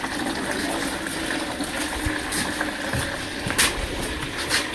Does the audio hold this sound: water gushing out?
yes